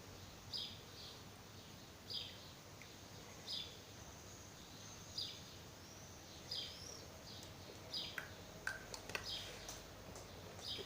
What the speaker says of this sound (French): Là, on entend les bruits des oiseaux.